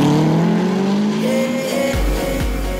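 Mosler race car pulling out of the pits during a Supercar Challenge Super GT round at Assen, engine note climbing through rising gear sweeps, with a few sharp shifts or tire chirps near the end, loud and close throughout.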